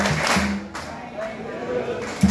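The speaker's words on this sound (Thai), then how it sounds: "ปรบมือแบบต่อต้านการใช้ยาเสพติด" Audience clapping at a Thai community anti-drug rehabilitation event, a dense patter of many hands under a loud host's voice and music, steady throughout.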